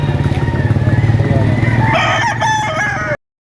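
Roosters crow loudly and close at a busy chicken market, one long crow rising over clucking and a motorcycle engine, cutting off abruptly.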